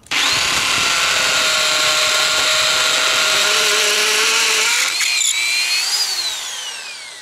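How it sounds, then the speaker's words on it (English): A loud, steady power drill with a masonry bit whines continuously as it bores into stone, the motor pitch shifting near the end before it winds down. "we just get ourselves a little masonry drill bit and we start"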